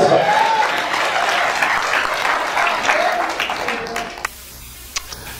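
A church congregation bursts into steady, dense applause that fills most of the moment, then cuts off abruptly, leaving a few scattered claps and a quieter room.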